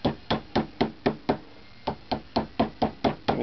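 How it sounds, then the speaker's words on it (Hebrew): A plastic mallet taps a dented Shure SM58 microphone grill in a steady run of close, crisp metallic knocks, about three per second, with one brief pause midway. "אז אני לוקח פטיש פלסטיק"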